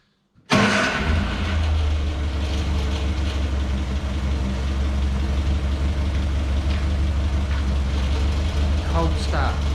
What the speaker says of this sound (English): Cold start. Don't think I've ever even fuel injected cars start that easy.